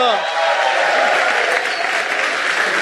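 A church congregation at a Korean Baptist service breaks into dense, steady applause that fills the room, continuing loudly throughout with a faint voice or two mixed into the crowd.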